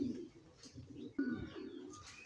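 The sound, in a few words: female racing pigeon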